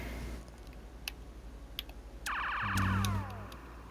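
A fire engine siren in a firefighting simulator video game sounds in a rising electronic wail, preceded by a few soft clicks and followed by a deeper honking blast, fairly faint overall.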